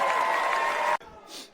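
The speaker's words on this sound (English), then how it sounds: "Mayor Hoxton, y'all, give him a round of applause." A comedy club audience at a Mike Epps stand-up show breaks into loud, dense applause for about a second, which cuts off sharply and leaves quieter crowd noise.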